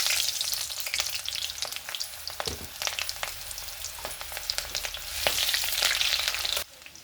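Chopped onion frying in hot oil with cinnamon, cardamom, dried red chilli and bay leaves for a mutton curry: a steady, close crackling sizzle with brief spatters, running unbroken for most of the clip before cutting off near the end.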